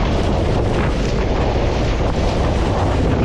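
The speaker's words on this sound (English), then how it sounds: "The wind is much stronger on this side." Strong, steady wind roaring across the microphone while windsurfing on a raceboard during a long open-water sea crossing, a loud continuous rush with slight gusting swells and no pauses.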